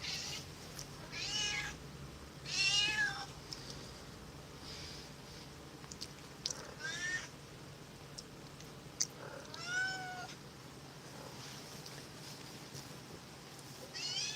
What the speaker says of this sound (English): If you hear any meowing